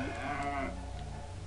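Cow grenade from the South Park 64 video game letting out a loud, sustained low moo that trails off into a steady background hum of game audio.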